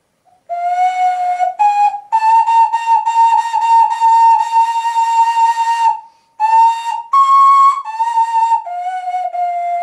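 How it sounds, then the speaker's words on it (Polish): An ocarina plays a simple melody of clear, pure sustained notes that step between higher and lower pitches, with short gaps between phrases and no other sound. "na okarynie możemy zagrać już melodię, ponieważ ma otworki"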